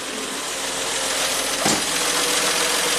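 A 1967 Triumph GT6 engine catches with a brief rising burst near the middle, then settles into a steady, close idle with a continuous low rumble and mechanical hum.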